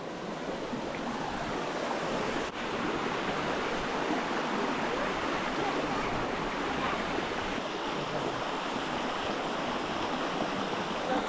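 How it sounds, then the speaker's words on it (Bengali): Water drains and pours steadily off freshly watered betel leaves in a hill village, a continuous broad rushing wash that stays loud and even for the whole stretch with no voices. "পানে পানি দিলে পানটা শক্ত হবে এই কারণে পানি দিচ্ছে পানি দেওয়া পানি দেওয়া শেষ এখন পানিটা ঝরাচ্ছেন"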